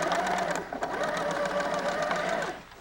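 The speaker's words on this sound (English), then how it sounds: "We'll sew onto that." A sewing machine stitches quilt pieces onto a scrap of fabric, running in one steady, close burst for nearly three seconds before stopping.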